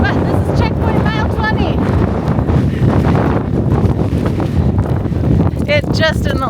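Strong gusty wind buffets the microphone as a rider pushes through a gravel bike race after wildfires, a steady loud roar throughout with faint voices breaking through now and then.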